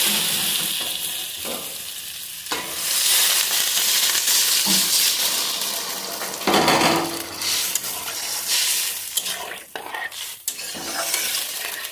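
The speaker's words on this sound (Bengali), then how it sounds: "মশলা ভালো করে কষে গেছে। এখানে জলটা দিয়ে দিচ্ছি।" Water poured into a hot pan of well-fried spice paste for a soya chunk curry, a loud hissing surge of sizzle with stirring scrapes and clinks, rising and easing in bursts over several seconds.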